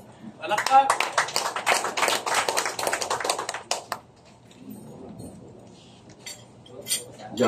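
At a meeting of national religious group leaders, an audience gives a brief round of clapping that stops abruptly after about four seconds, leaving quiet room noise and faint voices.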